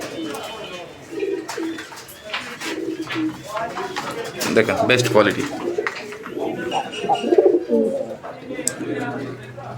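Fancy pigeons coo softly in the background while someone talks over them, with a few brief chirps mixed in.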